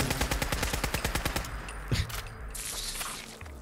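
Rapid burst of game gunfire in Fallout 4 aimed at a flying ant swarm, a fast run of evenly spaced shots for about a second and a half, then a lone heavier shot against a dense background rumble.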